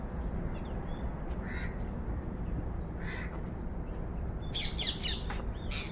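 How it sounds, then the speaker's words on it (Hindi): Short, harsh bird calls sound outdoors at moderate distance over a steady background hiss, followed by a louder cluster of chirping calls near the end. "किसी पक्षी का, शायद तितर, जो हमारा राज्य स्तरीय पक्षी है, काला तितर।"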